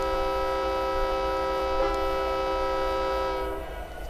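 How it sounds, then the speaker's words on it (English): A steady, loud horn on a locomotive in Train Simulator 2018 holds one sustained tone for about three and a half seconds, then cuts off, leaving the low rumble of the running train. "Where is the horn on this thing?"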